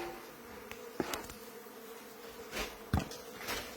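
Bees buzz around a hive built inside a wall, a faint, close droning hum with a few louder passes near the listener.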